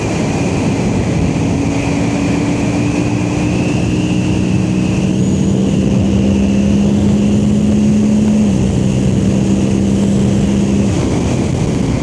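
A Suzuki GSX-8R sport bike on its stock exhaust drones steadily and loudly for the whole stretch, its engine note holding even before rising slightly in pitch and then dropping, with no talk over it.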